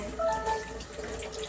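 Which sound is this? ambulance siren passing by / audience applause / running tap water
running tap water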